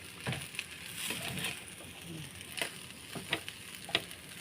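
Fried rice sizzles and crackles steadily in a pan with soy sauce added, broken by a few sharp scraping stirs and clicks of the spatula, close and moderately loud with no talking.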